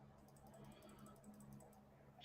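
Cards from the Ghost Stories board game are shuffled by hand, a quiet run of rapid, even clicking and flicking, with no talking.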